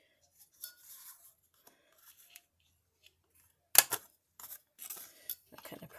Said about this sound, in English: how I cut mine is I use a hole puncher